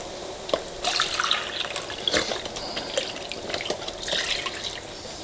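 Water pouring into a pot for jambalaya, with close, continuous splashing and gurgling, uneven in strength, and no talking.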